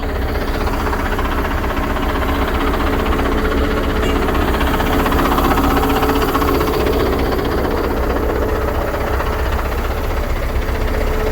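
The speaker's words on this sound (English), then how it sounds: "Oh yes, the big Scania truck started up. That sounds amazing." A Scania truck's V8 diesel engine idles steadily and loudly, a deep low rumble with a rough mechanical throb throughout, no voices.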